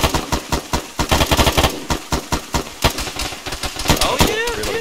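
Gunfire in a combat video game, rapid close bursts of automatic shots in a fast rhythm, loud and repeated, with brief voices under the shooting near the end.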